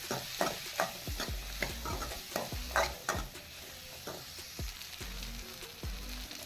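Chopped tomato sautéing in a pan: repeated scraping stirs and soft sizzling, a quiet irregular rhythm of utensil strokes over a low frying hiss.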